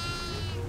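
A goat bleats in the farmhouse horror game Devour, one short, steady cry set against a loud, dense game soundscape.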